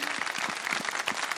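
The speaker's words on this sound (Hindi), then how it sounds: "हाँ, तो अगर हम भाई के लिए तालियां बजाएं बहुत सारी," A studio audience at a Ramadan kids' TV segment claps for a boy. It is a brief burst of close, rhythmic applause with many hands clapping together.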